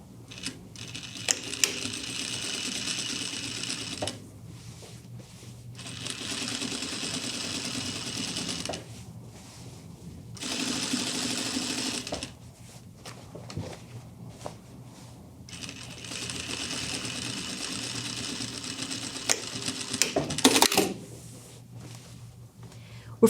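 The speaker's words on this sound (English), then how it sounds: "let's put in the second line. Same distance as our original stitching away from the first line." Sewing machine stitching a second line on jeans while taking in the waist: steady close mechanical whirring in three long runs separated by pauses, with light clicks and handling noise between.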